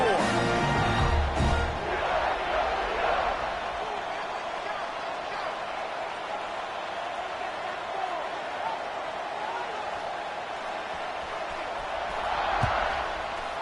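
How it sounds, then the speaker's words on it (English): A stadium crowd at a college football game keeps up a steady, dense buzz before a kickoff, with a brief louder swell near the end and commentators talking over it. "this crowd is buzzing after that last score"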